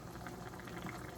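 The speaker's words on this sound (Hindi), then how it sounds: "इसका पानी जो है ना हम ड्राई कर लेंगे फुल आंच पे" Beef bhuna gosht liquid boils hard on full flame, a dense continuous bubbling and sputtering heard up close.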